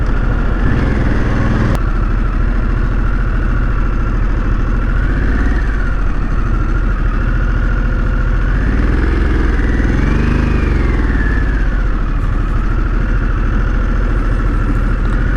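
Engine drone and wind roar continue steadily while riding a 2021 Harley-Davidson Sportster S, with another motorcycle's engine faintly swelling and fading as it approaches and passes on the road.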